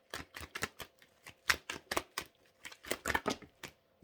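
Tarot cards are shuffled by hand, producing a quick irregular series of crisp, close riffling snaps and slaps with short pauses between bursts.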